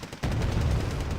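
Tank cannon fire in a video game tournament match, a sudden heavy blast that opens into a loud, sustained rumbling roar.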